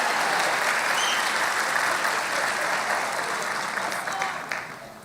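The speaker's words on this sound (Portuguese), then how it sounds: "Tá, me dá um aplauso para ele," A church congregation at a Comunidade Cristã service applauds in a sustained, dense round that thins and fades out toward the end.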